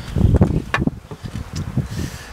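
Honeybees buzzing close up as they are shaken off a hive frame, a busy irregular drone with soft bumps and rustling throughout.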